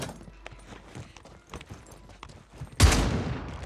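A shotgun in a first-person shooter video game fires a single loud, sharp blast near the end, preceded by faint scattered clicks and movement sounds.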